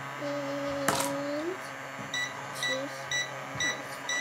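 A toy microwave play set sounds a run of short, evenly spaced electronic beeps in its second half, clear and close, after some brief tonal chirps and a soft knock early on.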